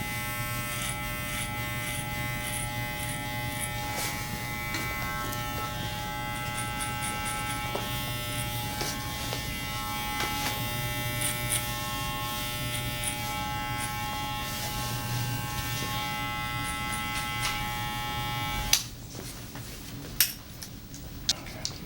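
Electric hair clippers buzz steadily and close up through an Afro-centric haircut, working over the hair for a long stretch before a few sharp clicks and handling knocks near the end.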